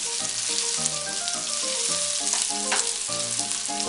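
Rabbit pieces sizzle loudly in a pan with garlic, bay, rosemary, oregano and wine, a dense steady frying crackle with background music playing over it and no talking.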